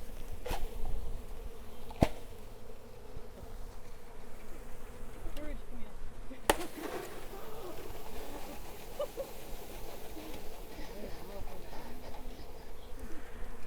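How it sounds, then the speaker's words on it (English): Many honey bees buzz in a dense, steady drone close by, broken by a few sharp knocks, with faint bird cooing in the background. "So here's all of my bees."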